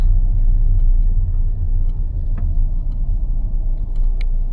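A car engine rumbles low and steady as the car is parked outside a restaurant in Feldkirch, Austria, a constant near drone with faint small clicks and jingles on top.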